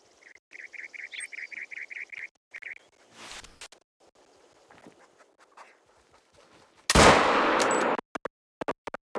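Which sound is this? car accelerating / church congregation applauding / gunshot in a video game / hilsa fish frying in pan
gunshot in a video game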